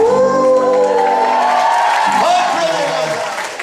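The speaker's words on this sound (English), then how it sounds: "give him a big round of applause." Audience applause and cheering at a pantomime, a crowd clapping and whooping under voices and shouting, fading slightly toward the end.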